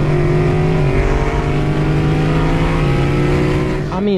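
A Chevrolet Camaro ZL1 with a 10-speed transmission accelerates on the road, its engine droning loud and steady with rising pitch, then a quick shift near the end.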